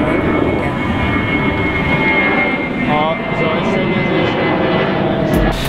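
Airplane taking off from Ferihegy airport over a residential area, a loud, steady broadband engine roar filling the whole clip, with faint voices beneath it.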